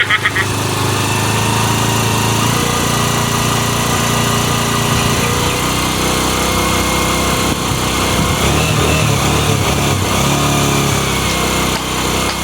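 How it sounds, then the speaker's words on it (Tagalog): A motorcycle engine warming up runs steadily at a loud, constant idle throughout, with a buzzing high-pitched drone and slight revving fluctuations near the end. "Pinandar ko na pala dito ang aking motor at pinainit ko na"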